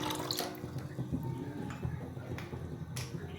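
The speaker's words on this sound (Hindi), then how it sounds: "मैं इसमें अब कर रही हूँ ऐड 1 गिलास ठंडा पानी" Cold water from a glass poured onto soaked, strained tamarind pulp in a kitchen, a faint continuous splashing trickle with a few sharp clinks.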